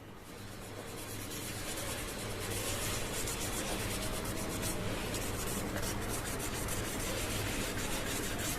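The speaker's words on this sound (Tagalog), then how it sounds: "Pasadaan na po natin ng liha kahit hindi na wet sanding para makita nyo." Continuous scratchy rasping of sandpaper rubbed back and forth by hand, dry, over urethane clear-coated car paint, steady and close for several seconds.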